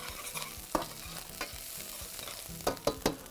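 Garlic added to softened onions fries in a pan and is stirred, with several sharp scrapes and clicks of a utensil over a steady background sizzle, nearby and moderately loud, no voices.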